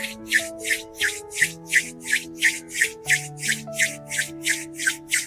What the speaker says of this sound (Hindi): हाथों को आपस में रब करेंगे